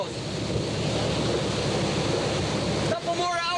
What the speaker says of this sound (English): 10-foot waves breaking through the windows.